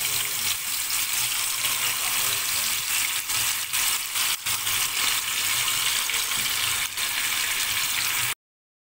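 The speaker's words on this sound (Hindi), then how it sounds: "अब एक एक करके हम सारे स्क्वेयर इसमें डाल देंगे और प्रॉन्स को अच्छे से फ्राई करेंगे।" Tandoori prawn skewers fry in hot oil in a pan, a continuous bright sizzle and hiss that stays loud throughout with small crackling pops, then cuts off abruptly.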